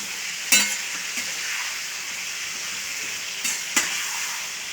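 Green chilies fry in hot oil as a tempering for okra. A steady, close sizzling hiss runs throughout, broken by a few sharp clacks of stirring. No one talks.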